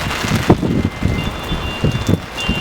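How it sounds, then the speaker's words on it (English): Heavy rain pours down steadily, a loud dense hiss of drops hitting surfaces close by, with occasional louder splashes and gusts but no talking. "it's raining. It's coming down hard."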